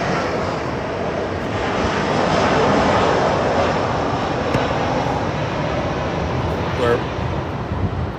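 Airplane engine roaring overhead by an airport, a steady broad rumble that swells and fades slightly over the whole stretch, fairly loud with faint talk beneath it.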